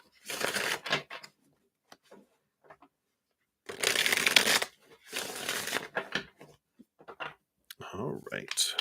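Cards are shuffled in several quick, crisp riffling bursts separated by pauses, close and clear, with no talking.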